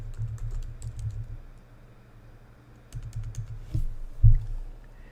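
Password typed on a computer keyboard: soft quick key clicks in two short bursts separated by a pause, close and fairly quiet, ending with a couple of firmer key taps.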